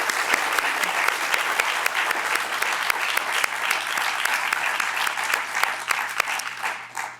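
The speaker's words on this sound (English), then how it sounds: "I want to give our speakers a big round of applause" Sustained, loud applause from a press conference audience for the speakers, a thick even roar of many hands clapping that holds steady throughout before tapering off at the very end.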